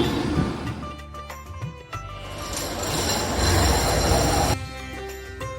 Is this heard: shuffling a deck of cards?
no